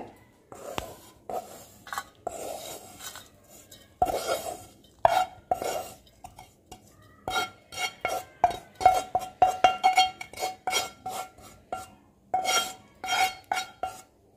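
A metal spoon scrapes and taps against a pan and plate while roasted maida flour is moved out for Bournvita burfi, producing irregular close clinks and scraping strokes with brief pauses and no speech.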